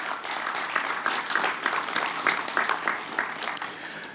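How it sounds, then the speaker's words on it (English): A crowd claps at a ribbon-cutting ceremony for a new transit facility, dense steady applause filling the space from start to finish with a few sharper individual claps standing out. "Please give a round of applause."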